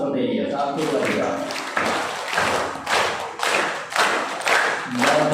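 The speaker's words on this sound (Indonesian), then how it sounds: "Tepuk tangan berirama seperti ini" Rhythmic group hand clapping at a Ramadan welcome gathering for children, in a few counted bursts of sharp claps with short pauses between, loud and close, with a voice leading in between.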